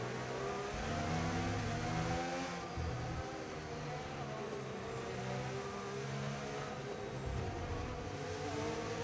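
An F1 race car engine in the F1 25 video game downshifts through its gears, a loud, steady engine whine broken by stepped pitch drops and blips, with a voice faintly underneath.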